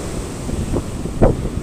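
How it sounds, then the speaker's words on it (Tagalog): Ocean surf rumbles with wind buffeting the microphone, and a louder wave crashes near the end. "Medyo malakas talaga ang alon."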